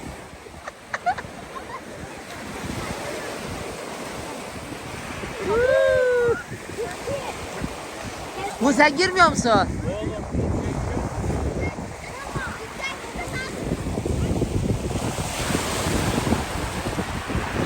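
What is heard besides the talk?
sea waves and surf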